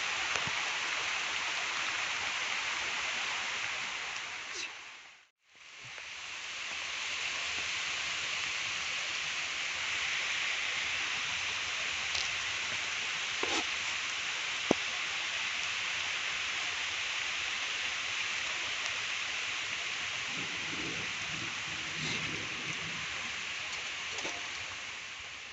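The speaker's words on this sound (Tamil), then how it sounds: "இப்போ பாருங்கள், மழை வருது." Steady rain falls outdoors during village-style cooking of a spicy fish grill, a continuous hiss that holds throughout and cuts out briefly once, with a few faint knocks and handling sounds near the end.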